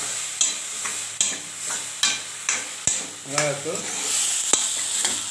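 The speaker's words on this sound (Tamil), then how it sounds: "இதை நல்லா வதக்கிக்கலாம் ஒரு வதக்கு வதக்கிட்டு" Food is sautéed in a pan with a constant sizzle, punctuated by repeated scraping strokes of a spoon stirring, close and clear.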